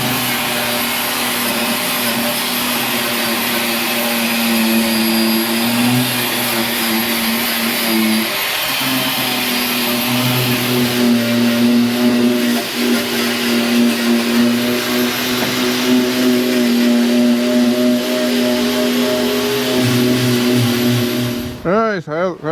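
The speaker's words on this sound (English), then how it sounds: "What are you doing all that grinding for? Just to get all that old glue off." A power tool grinds old glue off a plastic panel on old equipment, a loud continuous whining drone that shifts pitch slightly, with voices talking under the noise.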